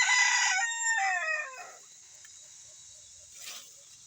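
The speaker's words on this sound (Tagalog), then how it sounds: "At napakalaki pa yung kanyang tilaok." A rooster gives one loud, close crow that fades out after about a second and a half, followed by near silence and a faint brief rustle.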